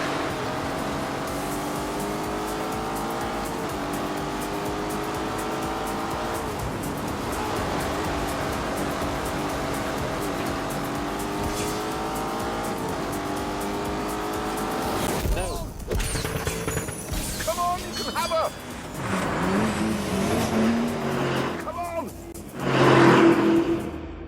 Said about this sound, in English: For lap after lap, the big, heavy Urus clawed at the rear end of the 911 Turbo.